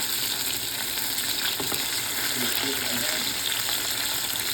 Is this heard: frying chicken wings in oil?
yes